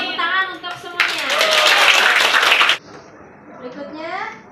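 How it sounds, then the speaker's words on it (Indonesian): Schoolchildren in a classroom burst into loud, dense applause lasting about two seconds, set between stretches of a teacher's speech. "Tepuk tangan untuk semuanya."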